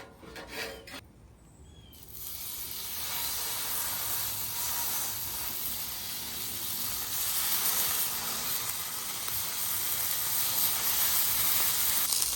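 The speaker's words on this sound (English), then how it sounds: "Just using just a touch of avocado oil as it goes down the griddle. It's heating up." A touch of avocado oil hitting a hot griddle, a broad steady hiss rising after a brief pause and holding loud and close for the rest of the time, with no voices.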